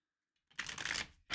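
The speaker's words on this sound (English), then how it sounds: "No, it said shuffle it again." A deck of tarot cards is shuffled once in a short, close riffling burst after a brief silence, with a second shuffle starting at the end.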